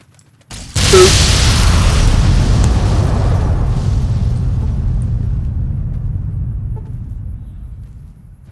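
A Destructor weapon explodes in the game Fallout New Vegas: one sudden loud boom followed by a long, heavy rumble that slowly fades over several seconds.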